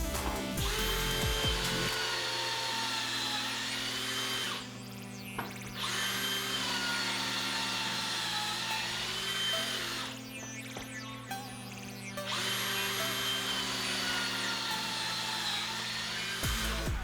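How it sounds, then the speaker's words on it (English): A cordless drill spins up as a homemade lever-action pocket hole jig bores into hardwood face frame stock, a steady loud whine with two short pauses between holes, no talking. "pull the trigger on the drill, and then pull down, and the lever does all the work"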